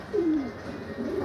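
A breeding pigeon gives a close, clear coo that swoops downward, then a second softer coo follows after a pause, with a low room hum underneath.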